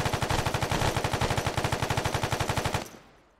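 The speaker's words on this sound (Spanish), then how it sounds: "Yo he disparado al bulto." A sustained machine-gun burst in ArmA 3, loud and close, firing in rapid, even rhythm for nearly three seconds before cutting off into a short fading echo.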